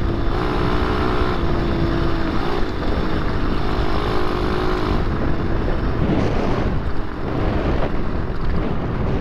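A mini motorcycle engine runs continuously on a dirt trail, a loud steady drone with heavy wind buffeting throughout, close to the rider and without pause.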